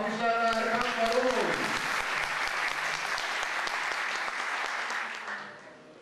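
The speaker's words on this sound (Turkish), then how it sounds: "Alkışlarla Erkan Barol" Audience applause welcoming a speaker at the opening of a King of Kings fight series stage in Kaynaşlı, Türkiye, steady crowd clapping that fades out at the end while an announcer's voice trails off at the start.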